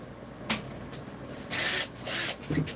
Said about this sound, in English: we're gonna use a drill motor